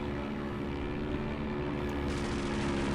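Airplanes droning in the video game Indiana Jones and the Emperor's Tomb at Peng Lai Mountain, a continuous propeller engine hum, steady and moderately loud, with no voices over it.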